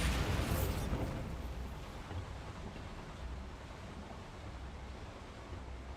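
Casting the Bombarda spell in Hogwarts Legacy sets off a broad blast at the very start that fades into a long rumbling, hissing tail.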